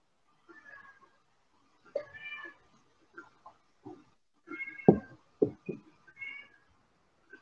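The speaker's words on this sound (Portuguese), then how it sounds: "A gata do menino está chamando a atenção." A young boy's pet cat meows repeatedly for attention indoors, a string of short close calls in uneven bursts with brief pauses, some rising and whiny.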